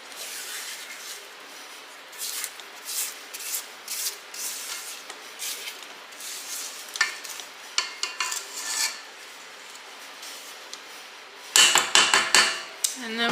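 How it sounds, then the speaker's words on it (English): Snickerdoodle cookie dough scraped down from the sides of a mixing bowl, a series of close scraping and rubbing strokes with occasional knocks, ending in a louder burst of clatter near the close, no talk. "Stop it here and scrape the bowl down."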